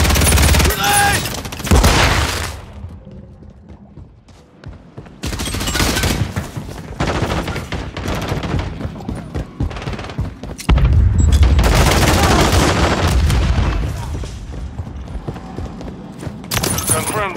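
A grenade explosion and heavy gunfire in Call of Duty, loud booming blasts and rattling automatic shots in several dense bursts with brief lulls between them.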